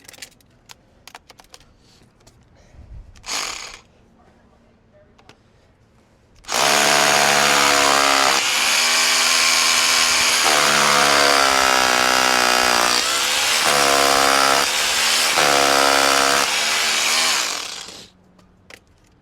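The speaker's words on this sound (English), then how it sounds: "this better bit does go through the brick definitely a bit easier than some of these cheaper bits" A loud, steady drill with an SDS Plus bit grinds into brick for about eleven seconds, its pitch wavering as it bites, after some quiet clicks and a brief burst beforehand.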